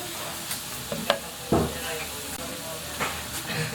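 Onion added to a pan of browned garlic sautés with a soft sizzle, with a few scraping and tapping stirs scattered through.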